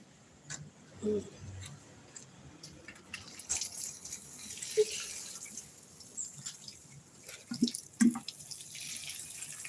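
Water poured onto kaffir lime plants in a garden, with intermittent trickling and dripping and a few louder splashes, quiet between bursts and with faint voices in the background.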